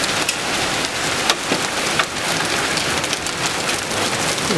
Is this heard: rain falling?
yes